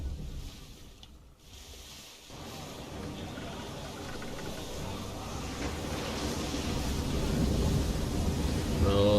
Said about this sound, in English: Oh, that's gonna be some big frickin' waves.